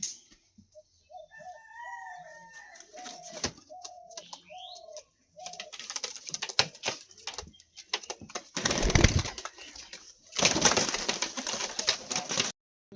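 Pigeons brought from Bombay, Ustad Saroj's breeding pair, give a run of tonal, repeated calls at the start, then give way to rustling and louder scuffing noises near the end.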